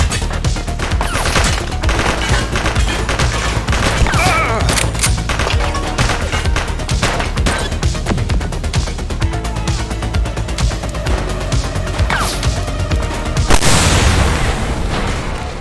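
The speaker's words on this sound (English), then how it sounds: "Shots fired!" Dense gunfire and booming blasts from a police shootout in the video game The Precinct, with volleys of shots and explosions running nonstop and a heavier burst near the end, voices talking over the action.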